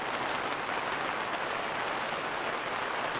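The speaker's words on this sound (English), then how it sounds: "Hopefully you don't mind the sound of the rain. Well, here's the rain." Steady, dense rain pours down outdoors with a constant loud hiss and no pauses or voices.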